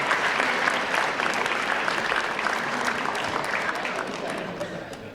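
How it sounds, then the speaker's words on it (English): Applause fills a high school fall sports awards ceremony, a continuous wash of clapping from a large crowd that holds steady throughout and tapers slightly near the end. "So just give a round of applause for Zach Tyler first, please."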